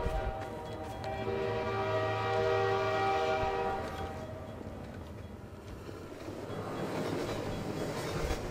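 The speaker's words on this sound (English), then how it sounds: "There's another train coming." In Half-Life 2, a train rolls past with a sustained horn blast and rumbling, clattering wheels, loud at first before the horn fades and the rolling noise continues.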